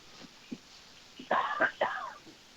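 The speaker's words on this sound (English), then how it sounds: "And me with this damn coughing" A person with a bad cough on a podcast clears the throat with a few soft hacks, then a cluster of rougher, louder coughing bursts, close and dry.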